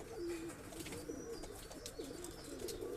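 Teddy cross breeding pigeons coo softly in repeated low, wavering calls, faint and steady throughout with no talking.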